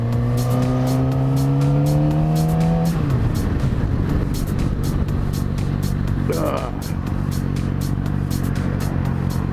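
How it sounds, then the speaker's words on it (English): Road traffic around a rider on a motorcycle: a passing vehicle's engine tone rises and drops away, then a continuous rushing roar of wind and engine with brief squeaks, under occasional talk. "Just a lot of traffic out today."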